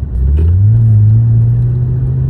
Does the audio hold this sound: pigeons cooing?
no